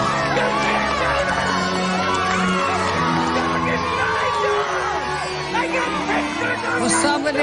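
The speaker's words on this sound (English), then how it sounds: "Will somebody suppress that crowd?" A loud crowd cheers, whoops and yells continuously, with a dense roar of voices and some higher shouts throughout.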